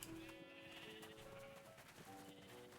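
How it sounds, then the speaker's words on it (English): A sheep bleats in a few wavering calls within a busy, continuous background of music and game sounds, fairly faint overall. "Such an adorable little sheep."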